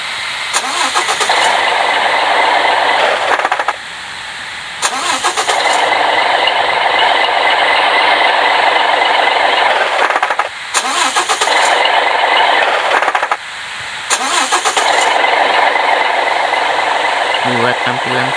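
A Hino truck engine is cranked by its starter and fires up several times in a row, each run a loud, steady mid-pitched roar that cuts off abruptly, with brief gaps between attempts and no talking.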